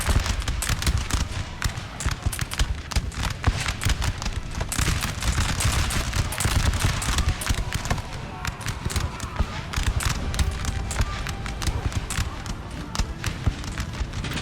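Musket volleys from infantry in a Napoleon Total War siege battle, dense continuous crackling gunfire with overlapping sharp reports near and far, under occasional talk.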